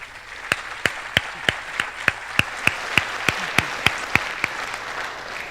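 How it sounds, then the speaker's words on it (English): Applause at a high school senior awards night, with a soft crowd wash behind a prominent set of loud, evenly spaced claps from one nearby person that beat steadily, roughly three per second, throughout. "we applaud you also for that tonight"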